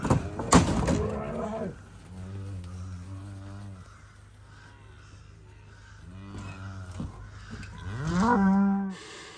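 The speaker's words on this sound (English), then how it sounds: "So we have cows and calves out." Cows and calves out in a field moo in several long, drawn-out calls, one after another with short pauses between, close by and clear, with a brief knock or thud near the start.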